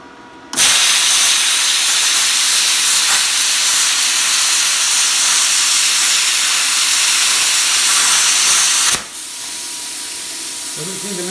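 A Bestarc BTC500XP plasma cutter slices through metal with its ground clamp attached, a loud, steady hissing roar that starts abruptly, holds for about eight seconds, then cuts off. Quieter shop noise follows.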